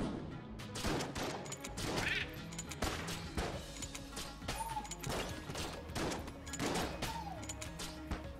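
Rapid video game gunfire mixed with shotgun blasts, sharp shots recurring through the passage with quacking-like effects, loud and busy, no voices.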